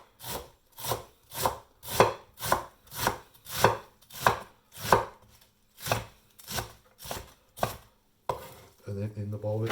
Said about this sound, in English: So then we'll just chop it up.